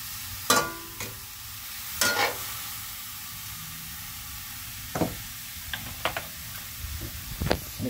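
Food with soy sauce fries in a pan under a steady low sizzle, broken by several sharp scrapes and knocks of a utensil stirring against the pan at irregular intervals.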